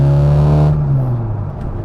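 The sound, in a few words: classic Mini Cooper exhaust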